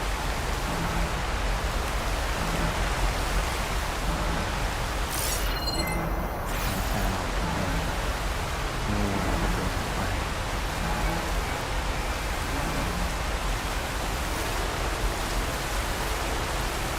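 Heavy rain downpour in the video game Horizon Forbidden West, a dense, constant roaring wash of rainfall that stays loud and even throughout, with a brief bright burst partway through.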